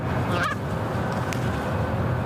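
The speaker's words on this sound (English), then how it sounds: "Warmer weather means nesting season for Canada geese, a time of year when they're known to be aggressive." Canada geese honk in an outdoor setting, a brief nasal call near the start over steady broadband background noise, with no other calls following.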